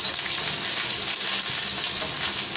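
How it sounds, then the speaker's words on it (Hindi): Onions fry in a little oil over low gas, giving a continuous close, dense sizzle with steady crackle and no talk. "अभी हम इसमें डालेंगे प्याज और फिर मैं ज़्यादा नहीं लगाऊँ, थोड़े तेल लगाऊँ और इसको फ्राई होने देते।"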